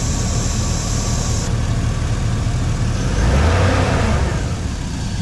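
A Chevy Silverado 5.3L V8 idles steadily, then the throttle is blipped and the engine note swells in a short rev around the middle before settling back; steady, fairly close, with no voices.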